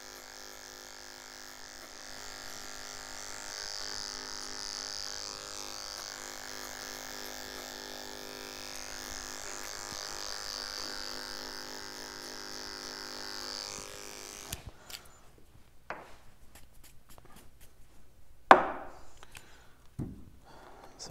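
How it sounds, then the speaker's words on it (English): Barber's hair clippers cutting hair with a clipper-over-comb technique, a continuous close electric buzz for most of the stretch, then stopping into short snips and clicks, no talking. "with a clipper over comb technique."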